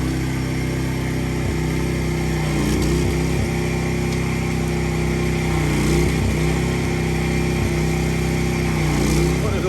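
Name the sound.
pressure washer running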